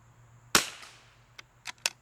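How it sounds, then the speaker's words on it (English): A single sharp .22LR rifle shot cracks at close range and rings off briefly, followed by a few smaller clicks and taps. "we'll keep shooting here"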